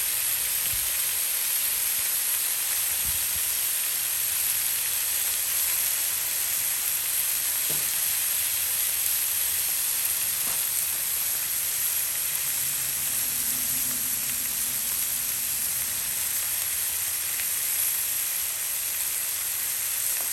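Thinly sliced cheesesteak meat sizzles on a Blackstone flat-top griddle, a steady, close, continuous frying hiss that holds evenly throughout with only a few faint clicks and no talking.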